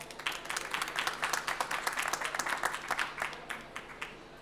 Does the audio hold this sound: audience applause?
yes